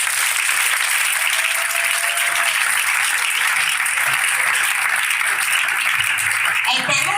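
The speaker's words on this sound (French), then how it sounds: "Est-ce qu'on peut acclamer le Seigneur?" A church congregation claps and cheers for the Lord in a dense, continuous wave of applause that stays loud and even throughout, with a voice surfacing near the end.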